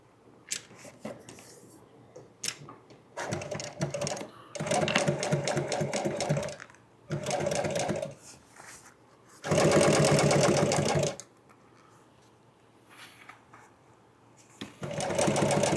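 An electric sewing machine stitches chair upholstery in several loud, rapid bursts of varying length, separated by quiet pauses, close up.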